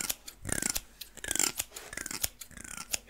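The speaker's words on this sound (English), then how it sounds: "Man, your hair is super easy to cut." Scissors snip through hair in a relaxed haircut setting, a run of close, crisp rasping cuts in uneven bursts with short pauses between them and no talking.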